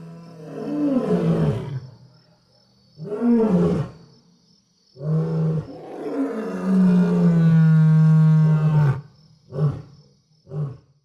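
Lion roaring in a series of deep, loud, drawn-out roars with pauses between, the longest in the middle, followed by a few shorter grunting calls.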